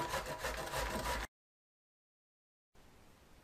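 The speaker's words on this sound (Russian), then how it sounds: "Кабачок нужно натереть на крупной терке." Zucchini scraping over a coarse grater in quick, rhythmic rasping strokes, close and loud for about a second, then a gap of silence and a faint low background.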